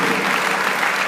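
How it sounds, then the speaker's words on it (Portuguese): Congregation applauding during a church service, a steady, dense wash of clapping from many hands that fills the room evenly throughout. "Aplauda o seu nome."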